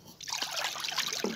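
Water is poured into a homemade remedy against lice, fleas and ticks. A soft start gives way to a steady, close trickling stream with gurgling splashes that lasts to the end.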